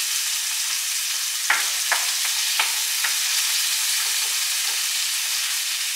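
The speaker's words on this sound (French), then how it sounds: "puis la faire cuire dans une poêle avec de l'huile d'olive" Small pieces of meat frying in olive oil in a pan, a steady bright sizzle with a few soft spatula scrapes and pops, close and continuous.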